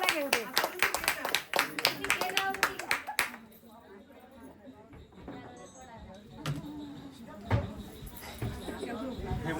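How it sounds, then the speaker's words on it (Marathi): Guests at a love-marriage wedding celebration clap in a quick, close burst that fades after a few seconds, followed by chatter and scattered knocks. "टाळ्या."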